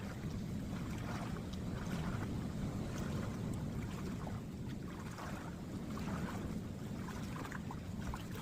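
Strong wind blows across an outdoor swimming pool in Akumal, Mexico, making a steady, loud, rushing roar with gusty buffeting on the microphone for the whole stretch, with no voices.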